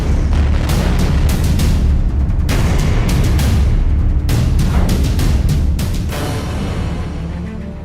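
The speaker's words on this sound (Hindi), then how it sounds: "रूस की सेना यूक्रेन पर भीषण गोलीबारी कर रही है।" Russian shelling in Ukraine: a loud, continuous roar of deep booms with repeated sharp blasts in clusters, slowly fading toward the end.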